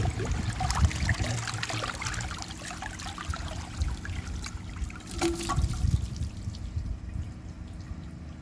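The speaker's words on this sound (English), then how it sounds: "There's the first flush." An American Standard Homestead VorMax toilet flushes with a steady, fairly quiet rush and trickle of water that runs evenly for several seconds before easing off slightly near the end.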